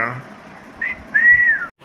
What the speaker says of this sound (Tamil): எவன்டாமன் நம்மள விசில் அடிச்சு கூப்பிடுறவன்?